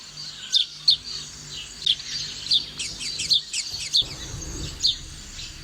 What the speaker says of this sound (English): one behavioral adaptation house sparrows adopt to survive is by chirping in 5 different ways